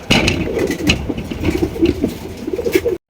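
A pair of black Mukkhi pigeons cooing close by, a steady run of low, throaty coos and soft murmurs with small shuffling noises, no talk.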